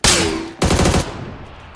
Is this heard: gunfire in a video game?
yes